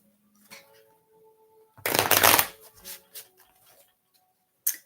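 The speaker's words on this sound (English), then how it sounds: "So I'm going to shuffle." Tarot or oracle cards being shuffled for a live reading: a single loud, dense riffle burst near the middle, close by, with faint taps and handling sounds before and after.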